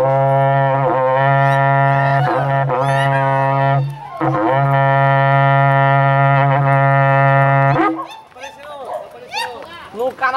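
A berrante cattle horn plays at a horseback parade in Piacatu, Brazil, sounding long, loud, buzzy sustained blasts with brief breaks, then giving way to shouting and voices of the crowd near the end.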